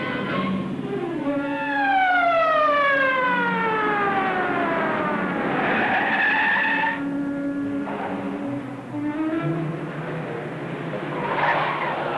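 Tires squeal during a car chase on a highway, with long falling and rising screeches mixed with a wailing siren and steady engine roar, loud and continuous throughout.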